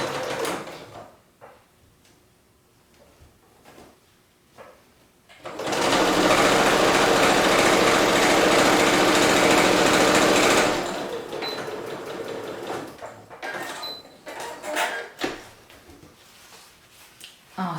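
A sewing machine stitches a diagonal quilt seam from corner to corner in one loud, continuous run of about five seconds, framed by quieter handling clicks and rustling before and after.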